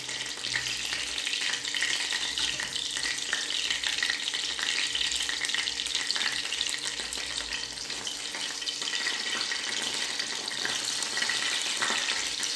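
Spicy chicken frying in a pan, a steady loud broadband sizzle with occasional stirring, continuous and close throughout with no talking.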